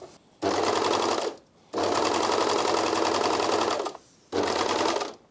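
A Janome 2000D serger overlocker stitches in three close, loud bursts of rapid mechanical chatter, separated by brief pauses, with no talking.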